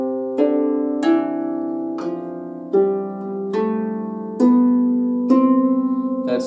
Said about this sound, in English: Now, a major scale sounds like this.